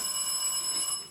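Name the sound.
telephone ringing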